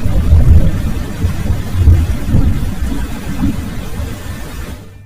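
Thunder rumbles in a deep, rolling wash that swells and ebbs for several seconds before cutting off, fairly loud and alone without speech.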